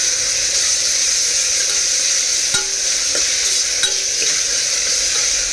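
Garlic, ginger and coriander paste frying in a curry pan, a steady broadband sizzle throughout with a few sharp clicks of a spoon stirring against the pan.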